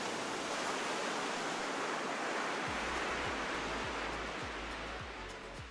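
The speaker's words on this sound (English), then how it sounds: "listen to waves reaching to shore" Waves wash steadily against a beach shore in south Goa with a broad, constant rush, a soft repeated low thumping underneath as water rolls in.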